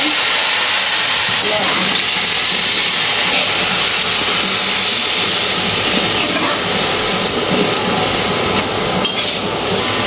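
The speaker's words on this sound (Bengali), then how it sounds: "আর এইদিকে ভুঁড়িটা হচ্ছে প্রেসারে।" Pressure cooker full of beef tripe hissing steam on a home stove, a steady loud broadband rush that runs through the whole stretch with faint kitchen clatter beneath.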